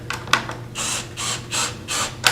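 A ratcheting clamp is cranked tight around a glued segmented wood ring for woodturning, giving about five quick, close clicking bursts in an even rhythm.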